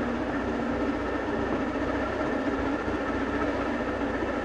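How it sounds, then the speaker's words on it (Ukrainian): Heavy construction machinery runs steadily behind an outdoor shooting range under reconstruction in winter, a continuous low rumbling engine drone with broadband noise and no breaks, fairly loud and alone. "Як ви можете помітити, за моєю спиною працює будівельна техніка."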